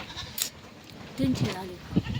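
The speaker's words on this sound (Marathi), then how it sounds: "सगळ्या शेळ्या यायल्यात." Goats bleat a few times in short wavering calls, fairly close, against light background noise.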